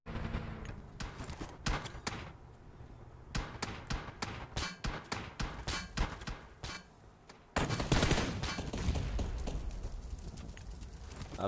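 Gunfire in a shooter video game, rapid cracking shots in quick bursts, then a denser, louder stretch of firing near the end, fairly quiet overall with no talk.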